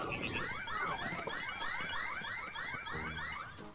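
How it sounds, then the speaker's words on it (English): The enemy alarm in the Zelda Tears of the Kingdom video game sounds as a continuous run of rapid, repeating rising electronic sweeps. It wails steadily and fairly loud throughout, with no talk over it. "They're sounding the alarm."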